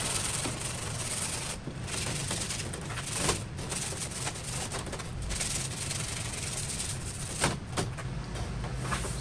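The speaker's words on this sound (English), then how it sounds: "It's just 220. Come across the top. I'm try to swirl it a little instead of making straight scratches." Hand sanding of an aircraft wing's top skin with 220-grit sandpaper in swirling strokes, a continuous close abrasive rubbing with a few brief louder scuffs and no talking.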